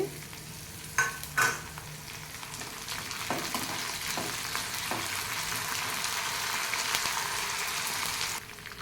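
Curry leaves and garlic hit hot oil in a pan and burst into a loud, steady sizzle, with a few sharp crackles at the start before the frying settles into a continuous hiss, no talk.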